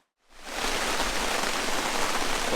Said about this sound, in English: Well, it is absolutely pouring down rain.